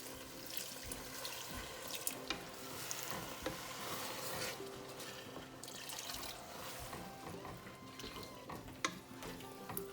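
Hot water poured into a pot of rice, coconut milk and coriander for prawn pulao, a continuous splashing gush with faint sizzling and clinks, close and steady.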